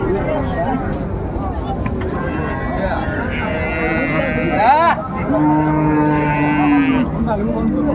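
A cow at a cattle market with cows and calves for sale lets out a loud, drawn-out moo, sweeping up then holding, over a busy crowd murmur with people talking.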